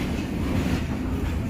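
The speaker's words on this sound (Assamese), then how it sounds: "এইখন ট্ৰেইনখন দেখি মোৰ ফূৰ্তি লাগিছে একদম।" A long train rolls past with a dense, continuous low rumble and faint rhythmic clatter, close and steady throughout the short stretch, with no voices.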